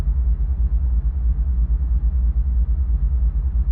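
Diesel locomotive engine idling steadily in Microsoft Train Simulator, a continuous low, throbbing rumble with no speech over it.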